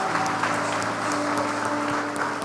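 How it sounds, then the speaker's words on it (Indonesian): A church congregation claps steadily during a worship service, a full even roar of many hands sustained throughout, with a faint held tone beneath. "Tepuk tangan lagi dong"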